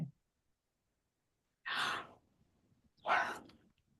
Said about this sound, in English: Get a big yawn out of the way.